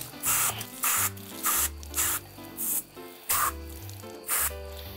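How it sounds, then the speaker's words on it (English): A hose sprays water in repeated close bursts over a freshly scaled sea bass, loud hissing spurts with short pauses between, alongside a low rhythmic background, no voices. "And then all we're gonna do is hose her down."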